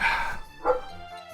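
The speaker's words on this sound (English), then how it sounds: "Dallas outside barking" A dog named Dallas barks outdoors, one loud bark followed by a second softer yelp with a brief whine, fairly close, with no talking over it.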